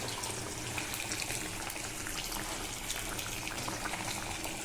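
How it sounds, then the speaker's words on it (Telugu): Fish curry boils on a high flame, a soft continuous bubbling and gurgling heard up close and alone, fairly quiet throughout. "ఇప్పుడైతే మీరు హై ఫ్లేమ్లో పెట్టి ఒక 7 మినిట్స్ ఉడకనివ్వండి"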